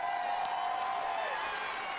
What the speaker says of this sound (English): I'm glad that one person had to start the applause for the rest of the auditorium